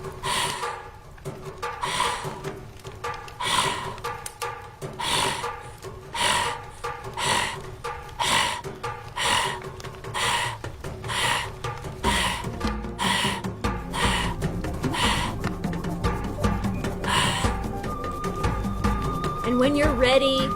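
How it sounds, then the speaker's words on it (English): Rapid, rhythmic breathing during a guided breathing exercise, sharp inhales and exhales repeating steadily for a long stretch, close and clear, with music underneath. "Breathing a little faster than normal."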